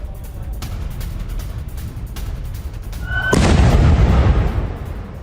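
Distant booming and rumbling from an Iranian missile strike on a US naval base in Bahrain, with air defense interception fire; a low steady roar swells into a loud, sustained blast-like rush partway through.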